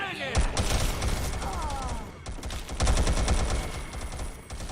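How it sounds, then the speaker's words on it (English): Gunfire in a Fallout 3 battle, with rapid bursts of automatic shots in two volleys, loud and close, mixed with game sound effects. "Oh, my people are shooting at someone."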